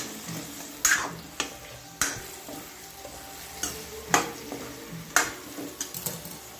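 Eggplant sautéed with a ground spice paste in a pan for khar vange, with a spatula scraping and turning it in repeated strokes about every second over a soft, steady sizzle.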